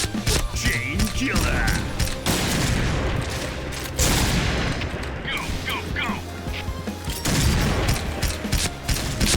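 Gunfire in a PUBG-style shooter video game: loud, dense bursts and booming shots that run almost continuously, with a player talking over them throughout.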